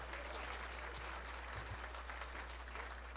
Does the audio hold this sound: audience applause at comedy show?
yes